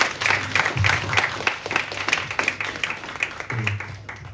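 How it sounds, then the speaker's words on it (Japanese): Scattered hand clapping from a small church audience welcoming speakers runs steadily throughout, with brief low murmurs beneath it. "拍手で歓迎してください"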